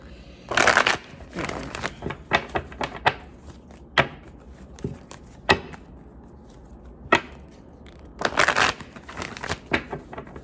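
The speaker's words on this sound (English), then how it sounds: "these cards have always been like challenging to shuffle" A deck of cards being shuffled up close, several quick riffling bursts separated by pauses and a few sharp taps, with no talking.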